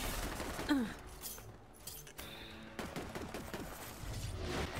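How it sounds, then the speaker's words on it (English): Rapid weapon fire from a radiation gun in Borderlands 3, a steady stream of crackling gunshots with mechanical clatter running throughout, fairly loud and continuous with only brief gaps. "Radiation gun."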